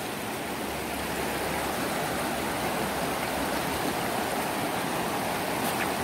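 The Okoy river rushes steadily past, a constant broadband wash of flowing water that stays close and even throughout, with no voices.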